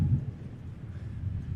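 Strong wind buffets the microphone outdoors, a continuous low rumbling roar with uneven gusts and no voices.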